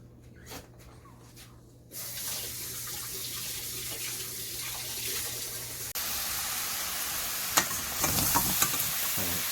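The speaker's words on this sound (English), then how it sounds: "I'm going to brown this sausage over medium-high heat." Sausage browns in a pot over medium-high heat, starting with a few faint clicks, then a steady loud sizzle that jumps louder midway, with scattered pops and crackles.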